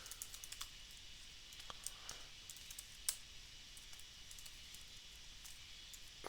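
Light, scattered clicks of typing on a computer keyboard while setting up REST web service code, faint and irregular against a steady hiss, with no one speaking.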